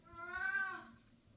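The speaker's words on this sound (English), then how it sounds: "Cat wants more food." A hungry cat lets out a single drawn-out meow, rising and falling over about a second, fairly faint and close in a quiet room.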